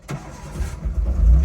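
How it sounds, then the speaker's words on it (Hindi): A Maruti Gypsy cranks briefly, then its engine catches and settles into a rising, rough idle, close and fairly loud with no talk. "चलो जी अब करते हैं गाड़ी को स्टार्ट भाई"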